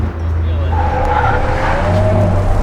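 A 1967 Corvette accelerates hard with tires squealing, a steady engine drone and rising whine sustained throughout, loud and close.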